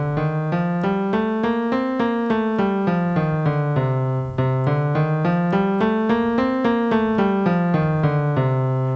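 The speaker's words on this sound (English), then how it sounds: "That's what Dorian sounds like." A Dorian mode scale played note by note up and then back down, twice over, each tone clear and evenly spaced, close and steady with no talking.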